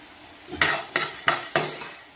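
Coriander seeds and lentils tipped into a dry pan in four distinct rattling, clinking bursts spaced about a third of a second apart, close and fairly loud with no talk.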